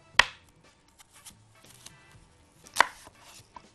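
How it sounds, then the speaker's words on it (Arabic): A knife chops through apples on a cutting board, with two sharp, loud chops about two and a half seconds apart and faint taps and handling noise between them, close up. "نقطع بقى التفاح"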